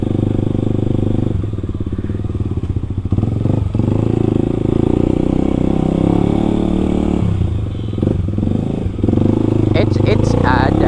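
A Kawasaki KLX 250 motorcycle ridden fast as a supermoto, its engine roaring loud and close throughout with rising revs and rattling clatter, while people talk over it.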